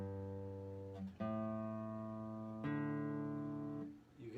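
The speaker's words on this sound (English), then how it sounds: "This is a purely acoustical guitar. Oh. You have 6 strings." A six-string acoustic guitar plucked string by string gives three or four sustained, resonant notes, each attack ringing on and overlapping the last, close and clear with no talking.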